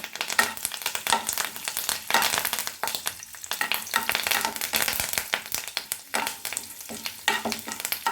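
Urad dal, chana dal and curry leaves frying in a pan for tomato gojju, a steady close crackling sizzle with stirring scrapes throughout, swelling and easing in bursts.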